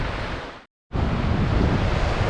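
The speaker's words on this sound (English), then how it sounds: "It's in the 30s and windy." Wind and surf roar continuously on Navarre Beach, Florida, on a cold, windy night. The sound is loud and close, broken only by a brief dropout of silence.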